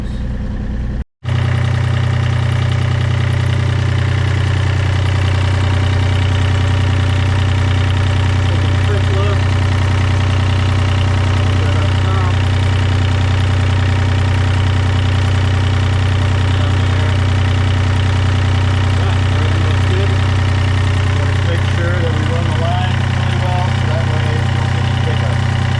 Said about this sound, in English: let it run for a few minutes to make sure that we don't have any issues